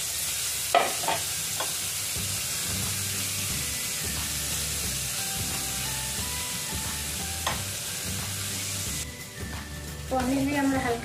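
Paneer frying lightly in oil in a pan, a constant sizzling hiss with a few utensil taps, while a low rhythmic hum and faint background voices run underneath.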